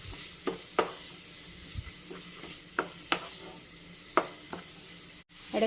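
Sautéing in a pan, a steady hiss of sizzling oil with repeated sharp scrapes and taps of the spatula every half second or so, close and moderately loud with no voices.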